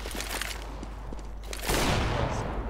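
Flashbang grenade bursting in Counter-Strike: Global Offensive during a competitive match, a sudden loud blast over ongoing game noise, followed by a sustained ringing wash that lingers to the end.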